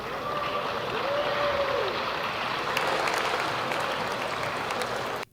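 Philippine congressmen in a legislative hall burst into sustained applause, a dense continuous clapping that holds steady for about five seconds before cutting off abruptly.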